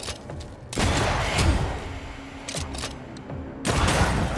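Gunfire from a corpse enemy in Banishers: Ghosts of New Eden, a loud close burst of repeated shots that runs nearly the whole clip, with a short quieter gap at the start.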